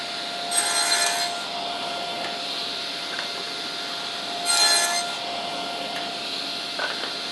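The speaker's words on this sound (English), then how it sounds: "we'll get a miter gauge in here and we'll cut those shoulders" A table saw with a miter gauge cuts tenon shoulders in wood, making two distinct rasping bursts of blade cutting over a constant motor hum, with a faint knock near the end.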